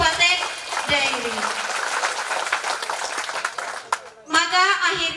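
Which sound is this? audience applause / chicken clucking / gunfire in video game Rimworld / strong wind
audience applause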